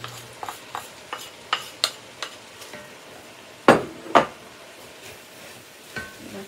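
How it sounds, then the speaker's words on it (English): Onions and garlic hit browned, drained hamburger meat in a pan, a soft sizzle under scattered light taps and two louder clattering knocks. "now I'm going to get the onions and garlic in here"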